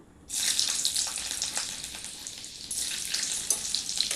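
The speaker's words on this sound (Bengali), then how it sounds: "আবার রসুনটা নাড়াচাড়া করে নেবো" Chopped garlic frying in hot oil with cumin seeds already in the pan, a loud, bright crackling sizzle that swells at the start and again partway through as the garlic is stirred.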